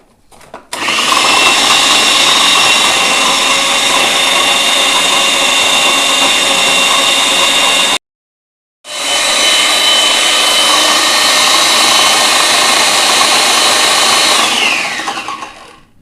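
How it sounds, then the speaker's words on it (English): A food processor whizzes seeded bread into crumbs in a home kitchen, a loud steady motor whine running for about seven seconds, stopping briefly, then starting again for another six seconds before winding down. "that's the last of the bread whizzed into crumbs"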